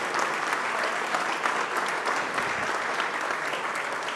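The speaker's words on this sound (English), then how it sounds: "So give her a round of applause as well." An audience at a town spring fundraiser gives a sustained round of applause for a state senator, a dense, even clapping from many hands throughout.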